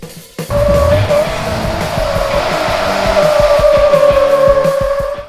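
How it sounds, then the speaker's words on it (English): A turbocharged four-cylinder Jeep Wrangler holds a burnout, engine screaming at high revs while its tires squeal continuously for about five seconds, loud and close, with no talk over it. "And with JSCAN's Burnout mode, I can do this"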